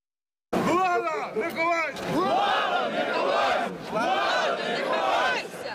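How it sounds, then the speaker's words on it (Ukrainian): A crowd of protesting students at a picket outside a regional administration building shouts slogans in unison, loud and rhythmic phrases repeated on cue, with brief pauses between chants. "За командою вигукують гасла, дехто приносить щойно надруковані плакати"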